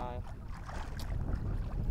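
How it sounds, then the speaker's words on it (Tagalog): Strong gusty wind buffets the microphone with a low, constant roar, along with faint water and boat noises. "Lakas ng hangin guys"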